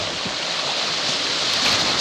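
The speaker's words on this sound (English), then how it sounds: "All right, we're getting into some white water again." Rushing white water roars on flooded Antietam Creek, a loud, steady, close wash of churning current with no voices over it.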